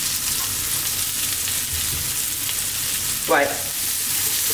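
Vegetables for stuffed baked eggplants, with black beans, fry in a pan with a steady, hissing sizzle, broken once by a brief clatter as they are tossed; a voice speaks a single short word.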